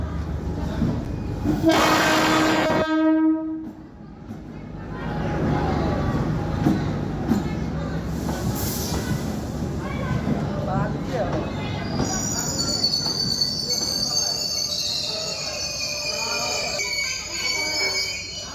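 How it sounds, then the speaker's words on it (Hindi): A train arriving at Piprahi railway station in Nepal, opening with a long loud horn blast, then a rolling rumble of cars and squealing wheels, with a second horn and a high screech later. "ट्रेन लगभग अब चलि आयल स्टेशन पर।"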